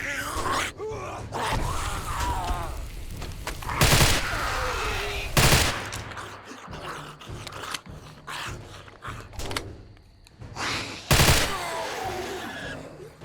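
Weapon fire in the modded 7 Days to Die survival game arrives as loud, rapid bursts of gunshots spread across the stretch, with groans and scuffling mixed into the dense game soundscape.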